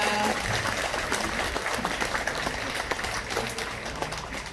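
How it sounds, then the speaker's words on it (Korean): Applause from an audience at a Buddhist temple ceremony marking Buddha's Birthday, a steady wash of clapping that holds throughout at moderate loudness. "큰 박수 한번 부탁드립니다"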